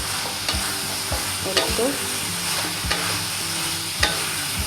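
Kung pao chicken with spring onions stirred and sautéing in a hot pan, a steady sizzle broken by regular scraping strokes of the spatula, close up, while someone speaks briefly.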